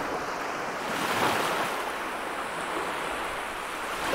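Ocean waves breaking on a shore make a steady, full roar of surf and wash, loud and close with a slight swell in the middle and no voices.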